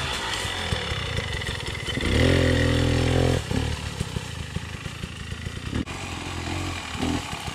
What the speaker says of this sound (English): That was full-blown wheelie, bro.